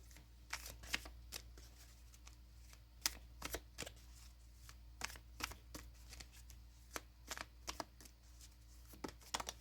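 Tarot cards being shuffled and drawn close up, with a steady series of crisp, quiet card slaps and riffles in an otherwise hushed room.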